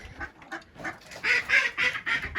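A duck loose outside its pen on a village farm quacks repeatedly in a steady run of calls, growing louder and more insistent toward the end.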